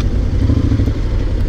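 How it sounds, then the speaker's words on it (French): A Honda X-ADV motorcycle engine rumbles close and loud, giving a throaty pulsing idle with short throttle pushes and no voices over it. "On arrive à faire un peu de bruit quand même, tu vois. En mettant des petits coups de gaz comme ça là."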